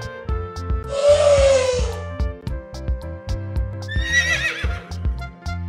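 A horse neighs once in a drawn-out whinny, then a second shorter neigh follows, set over a steady rhythmic backing beat in a children's animal-sound guessing game.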